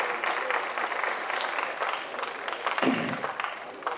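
An audience claps steadily in a dense burst of applause at a Tamil film audio and trailer launch, carrying on throughout, with a faint tap partway through.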